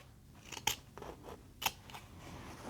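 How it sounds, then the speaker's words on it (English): Scissors snip through sewn fabric down the center of a stitched rectangle while making a bobbin lace bag, giving two sharp, close cuts about a second apart over a quiet background. "I'm going to cut a straight line till about 1/4 of an inch from the end, right down the middle of our sewn rectangle"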